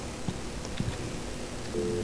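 Telephone dialing tones on a phone in the Alan Wake video game, a few brief beeps spaced apart and then a steady tone, heard over quiet background hum.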